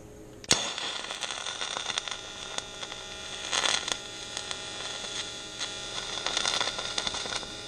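Arc welding crackles and fizzes steadily while building up weld on a cast iron repair, with a sharp strike at the start and a continuous sputter close by.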